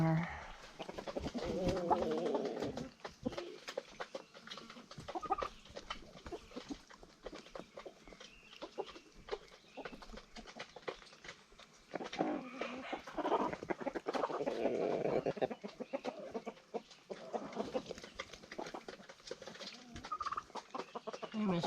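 Roosters and chickens inside a crowded farm coop, with clucks and coos rising and falling throughout alongside pigeon-like calls, close and busy, while a person talks intermittently.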